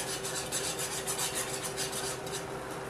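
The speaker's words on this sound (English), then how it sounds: "Now we're whisking it lightly to take any lumps out" A whisk scrapes lightly and steadily through gravy in a pan while making dinner-car tenderloin on toast, a continuous close rasping swish with a faint rhythmic pulse and no talking.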